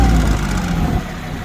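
A Hinomoto CX16 Japanese mini tractor engine runs steadily at idle, a loud, continuous low rumble with a passing car mixed in, and no voices.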